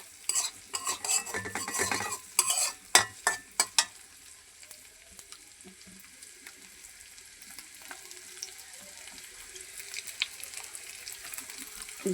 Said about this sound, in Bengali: আজকে সন্ধ্যার সময় ছেলে মেয়ের জন্য নুডলস রান্না করতেছি।